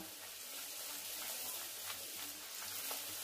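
Pea-stuffed kachori fry in hot oil, a steady soft sizzle and crackle that stays faint and even, heard on its own with no one talking.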